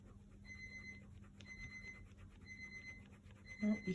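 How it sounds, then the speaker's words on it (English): An oven timer alarm sounds in repeated short bursts of electronic beeping at a steady rhythm, moderately loud against a quiet room with low background hum. "Oh, you can hear my oven timer going off."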